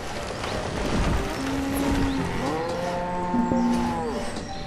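Cattle in the village-building game Banished moo several times, with long, low, drawn-out calls over a soft outdoor ambience.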